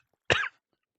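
A single short, harsh cough from a person with a lung infection, close and clear against silence.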